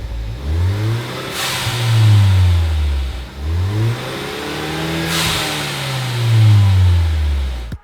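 Ford Focus ST with a Magnaflow exhaust and Turbosmart blow-off valve revving hard twice, each rev rising and falling through loud, close engine sweeps, with a sharp hiss of the valve venting at each peak.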